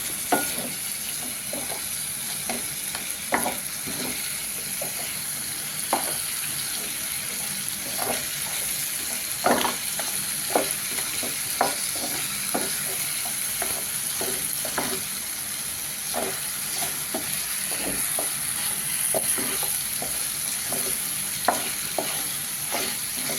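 Pork fries with masala in a pan as it is stirred, a constant sizzling hiss broken by frequent clinking scrapes of the spoon, close and moderately loud. No speech is heard.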